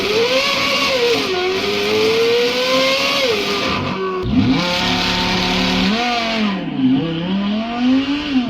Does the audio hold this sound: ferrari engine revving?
yes